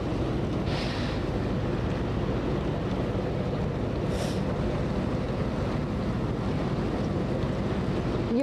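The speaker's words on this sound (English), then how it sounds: "You guys, the wind here is unbelievable." Strong wind gusts during a Southern California fire roar into a microphone as a constant, heavy rushing buffet, loud and unbroken for several seconds with no talking.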